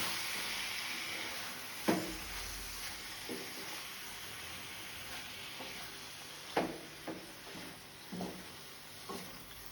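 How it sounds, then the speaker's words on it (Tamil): Prawns stirred into masala in a pan: a faint sizzle beneath a handful of soft scraping knocks from the spoon, spaced irregularly, quiet and close. "இப்போ இந்த மசாலாவோட நான் ப்ரான்ஸை மிக்ஸ் பண்ணுறேன்"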